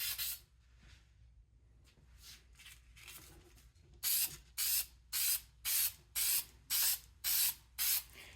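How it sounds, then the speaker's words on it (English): Super 77 spray adhesive is sprayed onto static grass for model railway scenery. A few softer hisses come first, then eight loud, evenly spaced bursts of aerosol spray sound up close. "spray-on Super 77 adhesive here"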